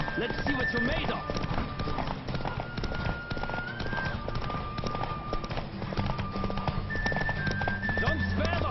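Horse hooves galloping in The Witcher 3 video game, a fast continuous clip-clop rhythm held steady throughout, with wind-like rush and occasional voices over it.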